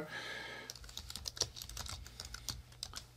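Someone types a search on a computer keyboard, producing rapid, close key clicks in an uneven run over a faint steady hum, with no talking.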